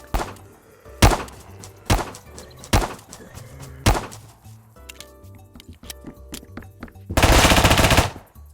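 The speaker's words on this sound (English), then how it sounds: "I'm hearing gunshots and somebody's shooting at zombies." Loud video game gunshots ring out in separate bursts, a few single cracks and then a rapid automatic volley near the end, in Roblox Apocalypse Rising 2.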